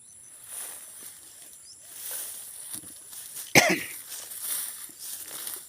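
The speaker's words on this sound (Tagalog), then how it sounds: "medyo may ubo ako eh" A single sharp cough rings out near the middle, close and fairly loud against faint outdoor background noise with insects chirping.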